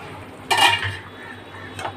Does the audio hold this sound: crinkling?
no